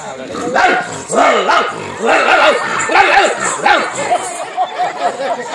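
A dog barks and yips in short bursts, close and fairly loud, with human voices mixed in around the calls.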